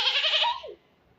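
A person imitates a goat with one short, nasal, wavering bleat that trails off after about half a second, close and clear, followed by quiet.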